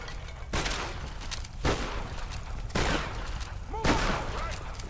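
Gunfire in the Tomb Raider video game, shots fired at a wall: four loud bursts of shots at roughly one-second intervals over a constant game-noise bed, with no talking.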